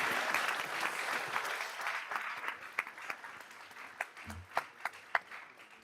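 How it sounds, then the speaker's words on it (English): A school board meeting crowd applauds the school's music students, a full wash of clapping that thins toward the end, leaving a few louder, separate claps. "Let's give them one more round of applause"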